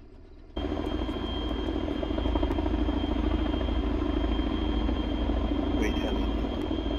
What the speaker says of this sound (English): Great heli.